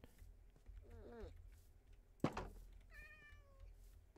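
A cartoon cat in a city-building video game meows twice, softly and at a distance, with a short thunk between the calls and quiet ambience under them.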